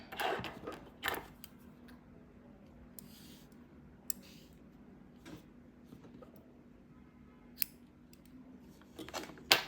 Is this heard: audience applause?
no